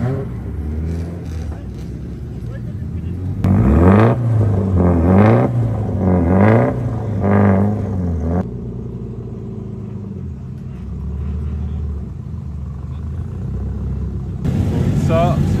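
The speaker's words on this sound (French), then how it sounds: "Donc là ils font chauffer les trains, c'est pour ça qu'ils élèvent les voitures." Drift cars at a Japanese drift matsuri rev with their wheels raised to warm up the axles and gearbox. Loud engine revs rise and fall in a run of pulses over a steady rumble, and someone talks nearby.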